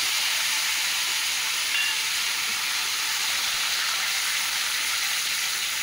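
Tomato, ginger paste and green chilli spatter in a hot pan with a loud, continuous hiss and crackle that holds steady throughout, without talk.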